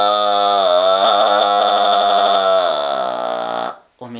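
Kargyraa throat singing with reduced airflow and relaxed throat: a low, growling, rasping drone with rich overtones, sustained loud and close for several seconds, then a brief break and a breath.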